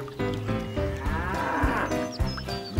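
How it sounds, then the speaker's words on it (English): A cow on a dairy farm gives a long, loud, close moo that carries for nearly three seconds, with no voices over it. "Mooing? That's right, a moo cow."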